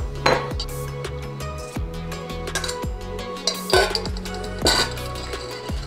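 Korean mung bean sprout side dish being mixed and transferred onto a serving plate, with a series of clear clinks and knocks of utensils against dishes, close and moderately loud, no talking.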